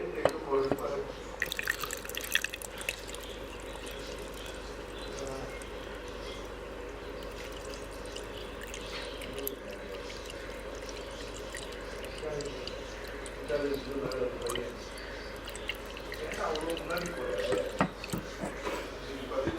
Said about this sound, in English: I'm going to be filling some water into it so that I'm able to just cook it really well